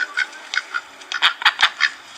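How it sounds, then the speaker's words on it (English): A cartoon-style duck voice quacking in a children's bird lesson, a series of short nasal calls in an irregular rhythm, close and fairly loud, with no talk over them. "I am a duck."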